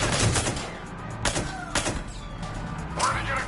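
Sharp gunshots from a firefight in Mass Effect 3 crack out in a few separate bursts over a steady background of game noise, each report loud and close.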